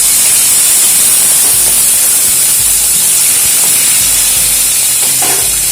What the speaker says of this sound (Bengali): এবারে ছোলাগুলো ভেজে নেব